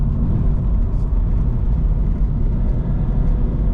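A 2025 Toyota GR86 with a boxer engine pulls hard after a shift into third gear, giving a loud, steady, close engine roar and rumble from inside the cabin, with no talking.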